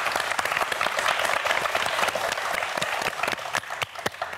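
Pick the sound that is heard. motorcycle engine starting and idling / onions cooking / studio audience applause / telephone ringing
studio audience applause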